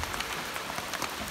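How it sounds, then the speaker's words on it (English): Rain falls on the tarp-covered roof of a DIY off-grid cabin, a soft, steady patter that stays faint and even, with no voices. "we're calling it a day because the rain is rainy"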